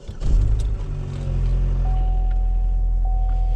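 A 2007 Pontiac G5 Coupe on bald tires drives a snowy road, its engine a loud, close drone that settles into a steady low hum, with a faint thin whine above it.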